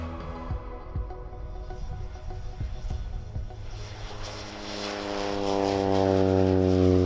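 Propeller airplane on a flight from Entebbe to the Mgahinga region of Uganda, its engine drone steady and near with strong harmonic hum, rising and growing louder toward the end as power increases.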